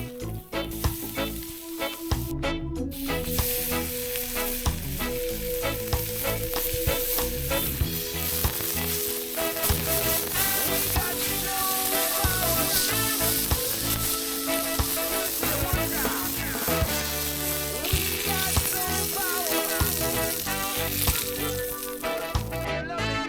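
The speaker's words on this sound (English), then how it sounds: "Seasoning the hot plate. Plucking a bit of butter on the buns, flattening out these gigantic patties, salt, pepper, bit of oil." Large burger patties and buttered buns sizzling on a seasoned hot plate at an outdoor camp cookout, a loud continuous crackling fry with scraping and stirring, close and steady for the whole stretch.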